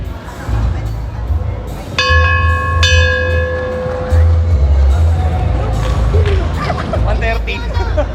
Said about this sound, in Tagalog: Pag walang relos, usually bell ang ginagamit namin.